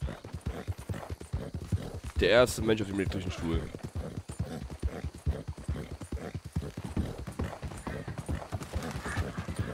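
Horse hooves clip-clop steadily in Red Dead Redemption 2, a continuous rhythmic trot running the whole time beneath someone speaking German, with a brief neigh-like tonal burst early on.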